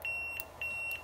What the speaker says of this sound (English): you can hear my beep